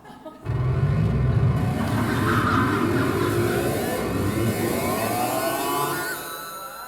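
A race car engine sound effect blares out of a playback device after a button press, a loud roaring rev that rises and sweeps in pitch for several seconds before trailing off.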